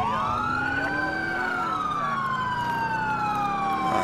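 An ambulance siren in the video game GTA IV with the LCPDFR police mod wails loudly and continuously, its pitch sweeping slowly up and down over a constant traffic rumble, close and dominant.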